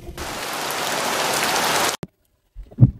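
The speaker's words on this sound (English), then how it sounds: "So it's raining like crazy." Heavy rain pours steadily as a loud, dense hiss for about two seconds, then cuts off abruptly, followed by near silence and a brief low thump.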